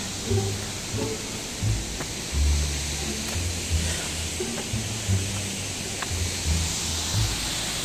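Yewang waterfall at Taroko, Taiwan, a steady broadband rush of falling water that continues without a break, with low rumbling thumps and faint voices in the background.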